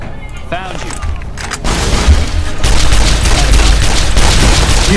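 Gunfire in Fallout: New Vegas, starting with talk and then erupting into loud, sustained rapid shooting that rises around the halfway point and continues densely to the end.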